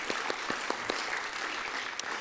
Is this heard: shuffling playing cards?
no